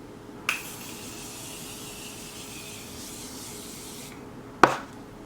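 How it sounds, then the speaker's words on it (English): Two short hissing bursts of Morphe setting spray misted onto a face, a few seconds apart, close and crisp over faint room hum, with no talking. "I'm going to spray my face with my Morphe setting spray"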